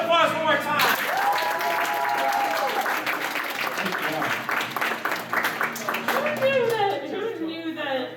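Audience applause fills a hall at an anime convention game show, Another Anime Con 2021, with steady dense clapping throughout and voices talking and calling out over it.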